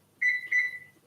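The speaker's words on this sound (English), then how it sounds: "hit a timer for 20 minutes" Kitchen timer giving two quick electronic beeps as it is set for a stovetop lentil dish, clear and close in an otherwise quiet room.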